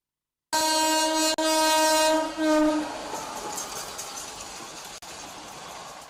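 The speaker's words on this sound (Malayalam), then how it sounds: "അകലെ നിന്നും ട്രെയിൻ കുതിച്ചെത്തുന്നത്" A train horn blares loudly, then breaks off as the train rushes past, its rumble and rattling wheels fading afterward.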